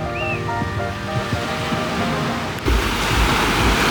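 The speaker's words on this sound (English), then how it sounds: "it sounds nice just to listen to the waves crashing" Ocean waves crashing on Ramatuelle beach, a constant loud roar of surf with a faint whistle early on, swelling into a heavier, closer wash of water near the end.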